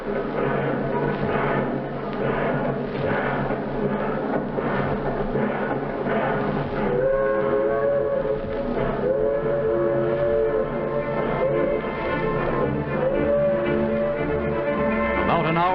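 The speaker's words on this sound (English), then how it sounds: "watches with grim satisfaction as the train pulls slowly out of the station" A train pulls slowly out of a station, rumbling steadily while a whistle sounds in long sustained tones, loud and continuous, with mechanical clatter underneath.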